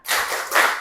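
Indonesian classroom students doing a rhythmic 'tepuk semangat' clap chant as an ice-breaker; two quick bursts of clapping close by, brief and fairly loud.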